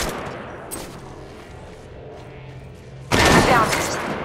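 Gunfire in the mobile battle royale game Apex Legends Mobile, a sudden loud burst of rapid shots crackling after a stretch of quieter game ambience.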